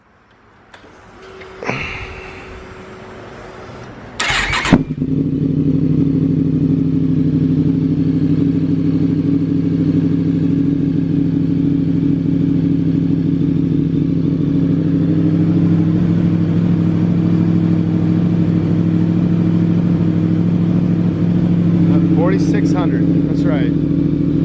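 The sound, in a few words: Yamaha MT-10 motorcycle with M4 exhaust idling and revving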